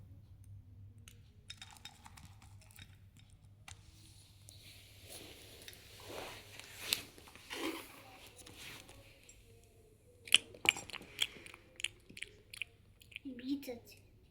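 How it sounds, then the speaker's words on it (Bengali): Someone chews fried bitter gourd with soft, wet crunching and biting sounds close up, rising in the latter half, with quiet talk and faint clinks in the background. "উচ্ছে ভাজাগুলো কামড়ে কামড়েই খেয়ে নাও।"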